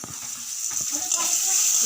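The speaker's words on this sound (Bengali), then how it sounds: "ঢাকা দিয়ে দেবো যাতে আলুটা ভালোভাবে ভাজা হয়ে যায়" Potatoes frying in oil in a covered pan give a steady, moderately loud sizzle that builds slightly, with a few low knocks and faint voice-like sounds underneath.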